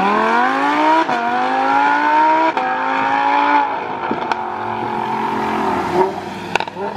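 A Lamborghini and a BMW i8 race, giving loud, close engine revving with rising pitch through repeated gear shifts, sharp clicks and a brief tire squeal.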